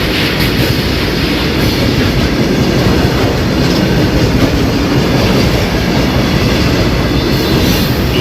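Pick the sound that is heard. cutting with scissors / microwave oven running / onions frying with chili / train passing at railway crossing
train passing at railway crossing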